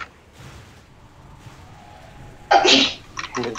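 A single loud, close sneeze bursts out after quiet background noise, followed by a brief exhale or sniff, while someone plays a raid in an online game.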